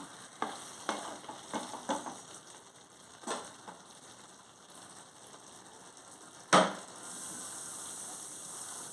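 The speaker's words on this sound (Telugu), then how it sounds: "పసుపు కొంచెం వేసుకుంటున్నాను ఒకసారి కలుపుకోవాలి" A spoon scrapes and stirs brinjal and drumstick curry with turmeric in a pan, village style, giving scattered clinks and scrapes followed by a sharp knock and a soft sizzle, with no voices.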